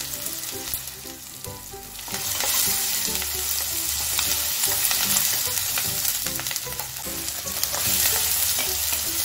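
Garlic paste and curry leaves frying in a pan for rava upma, a dense, loud, continuous sizzle that swells after a couple of seconds, with stirring clatter running through it.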